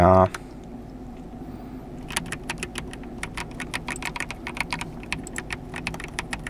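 Keys being tested on a Logitech G316 X keyboard: rapid irregular clicky keystrokes pattering close up for several seconds after a brief voice, with a low background rumble beneath.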